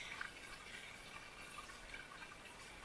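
Water trickles steadily from a small spring along a hiking trail, making a soft, continuous hiss and burble heard up close with no voices.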